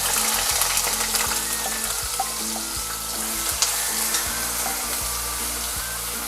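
Chopped onion frying in hot oil in a pan for chicken palak, a steady loud sizzle with the occasional scrape and click of stirring throughout.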